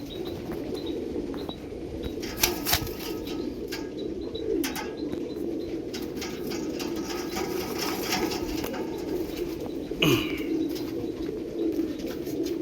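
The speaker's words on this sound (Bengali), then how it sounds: "Mail Payra, female Payra." Domestic pigeons, a male and a female, coo steadily and nearby, with soft chirps and an occasional flutter of wings over constant background noise.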